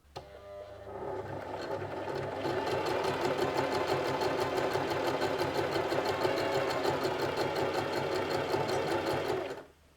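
A foot-pedal sewing machine stitches a steady row at a fast, even rhythm, loud and close, running for about nine seconds before stopping abruptly.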